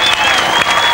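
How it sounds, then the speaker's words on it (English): A crowd at a 1996 skateboarding competition breaks into applause and cheering, a brief loud wash of clapping from many spectators with a commentator talking over it. "the crowd absolutely thrilled by that"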